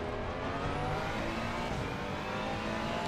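Race car engine in Assetto Corsa Competizione at Brands Hatch, a steady, sustained engine drone at fairly constant revs with a faint whine, moderately loud and continuous, no talk.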